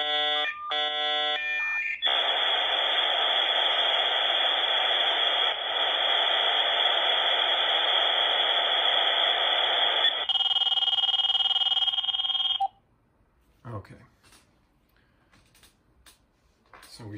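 Dial-up modem connecting over a phone line: layered handshake tones and a long sustained wash of hissing screeching noise, loud and steady for about ten seconds, then an abrupt cut to near silence with a few faint clicks.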